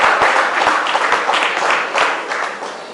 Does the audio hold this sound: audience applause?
yes